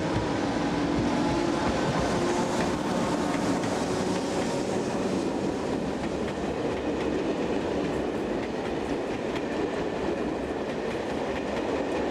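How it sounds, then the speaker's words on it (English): French BB26000 electric locomotive 26005 restarting a Toulouse to Paris passenger service: a loud, continuous rumble with rail clatter and a steady roar of moving coaches, no talk. "as 26005 restarts a Toulouse to Paris service on the 25th of June 2002"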